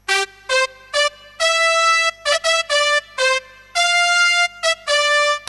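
A bright synthesized brass tone from a Vangoa Aerophone MAE 02 wind controller plays a lively melody of short and sustained notes, clean and close, with brief gaps between phrases.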